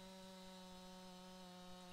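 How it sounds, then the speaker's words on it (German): Chainsaw cutting a tree in Farming Simulator 19 during forestry work, a steady, continuous motor drone with strong tonal hum, moderately loud and unbroken for the full two seconds, no voices. "Jetzt muss ich da zweimal sägen, weil der mag nicht."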